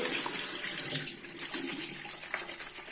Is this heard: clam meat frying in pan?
no